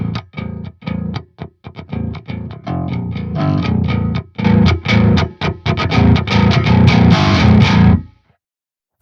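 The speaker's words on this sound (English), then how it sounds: "I added an amp to distort the higher part of the bass signal" Heavily distorted bass guitar played through an amp in a djent style, loud and close, with chugging palm-muted notes in tight rhythmic bursts broken by short gaps, ending in silence.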